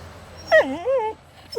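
An English bulldog whimpers in a gym beside a heavy kettlebell, giving one rising-and-falling whine and a short second cry, close and clear over quiet room noise.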